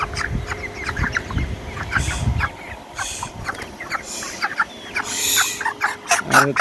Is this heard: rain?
no